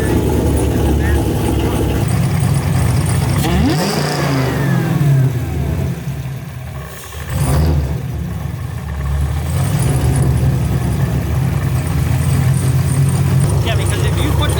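A car engine fitted with a Whipple supercharger runs loud and close, revving with a dip around the middle before surging back, while people talk over it.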